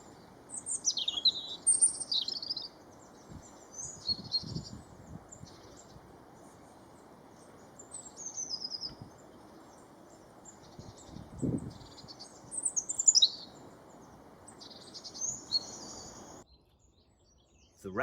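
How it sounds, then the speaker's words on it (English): A European robin sings in spring woodland: short, thin, wistful phrases come in scattered bursts, fairly faint over a soft low rustle and hum. "The wistful, beautiful notes of the robin"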